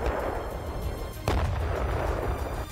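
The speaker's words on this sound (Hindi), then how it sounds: "उन्होंने टैंकों और तोपों से टारगेट को तबाह करने का अभ्यास किया।" Tank and artillery fire at a Ukrainian military drill: a sustained low rumble of distant gunfire with one sharper, louder blast near the middle, no talking.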